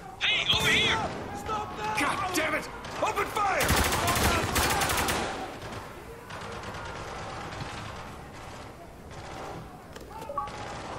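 Rapid gunfire in the 2012 video game Spec Ops: The Line, with bursts of automatic fire and heavy crashing shots clustered early, then lighter sporadic shooting under shouting voices and game sounds.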